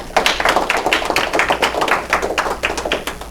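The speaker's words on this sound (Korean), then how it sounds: "박수로 환영해 주십시오." Audience applause welcoming a former long-serving Korean prime minister at a monthly forum lecture, steady dense clapping throughout without speech.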